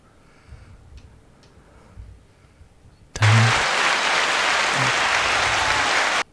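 Applause sound effect played from a sound machine: after about three seconds of quiet, a sudden burst of dense, hissy crowd clapping starts and holds at an even, loud level, then cuts off abruptly.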